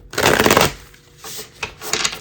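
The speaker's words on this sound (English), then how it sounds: "Oh, I was doing 3 shuffles and 3 cards" A deck of tarot cards is shuffled by hand close up: one long, dense riffling burst, then a few shorter, softer shuffles in quick succession.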